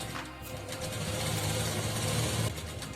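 Sewing machine stitching the wide hem (mohri) of a salwar, backed with cotton canvas, runs steadily and close for about two and a half seconds, then the whirring eases off.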